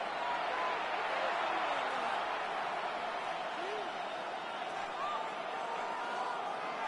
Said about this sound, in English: The Buffalo crowd being heard before 3rd down.